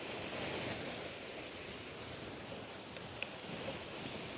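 Sea waves washing ashore beside a seaside bench in Soli, Mersin, a continuous rushing surf with wind buffeting the microphone, no voices.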